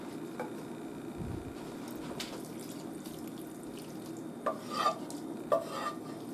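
Thin scampi sauce stirred into spaghetti in a pan at a cabin, with soft wet stirring and scraping, faint liquid sizzle, and a few brief clinks and slurps, quiet and close.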